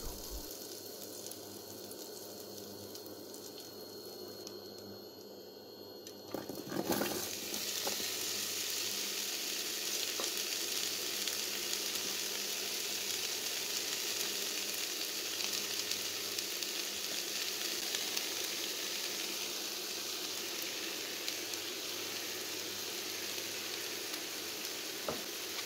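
Apples and jam sugar caramelizing in a pan for pumpkin jam, a quiet stretch before a clatter, then steady close sizzling and crackling that continues evenly to the end.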